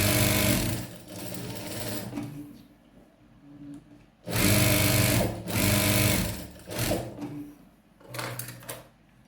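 A domestic sewing machine stitches fabric in several loud close bursts of rapid whirring, separated by short quiet pauses, during a beginner sewing lesson.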